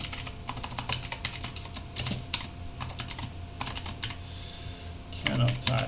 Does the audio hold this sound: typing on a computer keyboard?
yes